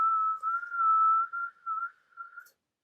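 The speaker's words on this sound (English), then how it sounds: "I've never been able to whistle like that, but that's good." A person whistles a single sustained, slightly wavering tone in short phrases for about two and a half seconds, close and clear with no talking over it.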